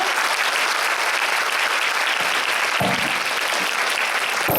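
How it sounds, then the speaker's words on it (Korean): An audience in a university lecture hall applauds to welcome a profiler lecturer, dense steady clapping from a large crowd lasting several seconds, fairly close and unbroken. "큰 박수로 맞아주세요."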